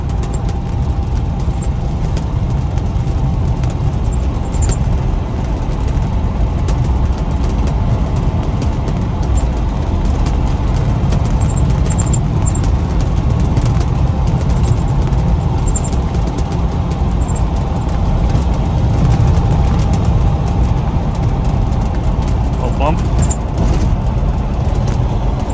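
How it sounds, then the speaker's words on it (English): Plastic windows and a vinyl fabric rooftop on a 1990 Land Rover Defender rattle against the roll cage as wind buffets the moving vehicle. A loud, steady road and engine roar runs throughout, with faint high rattles over it. "The plastic windows and the vinyl / fabric rooftop in the back bouncing against the roll cage because of the wind buffeting"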